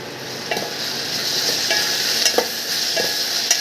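Coriander and spice chili powder tipped into a hot oil tempering for seasoned curd, giving a steady close sizzle with light stirring scrapes and a few soft taps in the pan.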